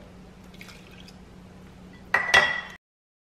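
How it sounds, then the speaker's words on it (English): A short splash of water poured into a pan of cooking onion jam, a brief bright burst of liquid near the end after a quiet kitchen hum. "Now we're going to add 1/3 cup of water."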